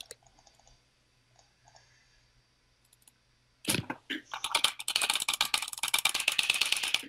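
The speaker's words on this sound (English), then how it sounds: "It sounds like you're clicking something. Yeah, Mike, I'm clicking." Computer mouse clicking during a Bloons TD Battles game, quiet sparse clicks at first, then a burst of rapid close clicking and rattling taps that stays busy to the end.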